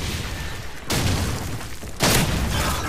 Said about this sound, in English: I'm beasting with the shotgun.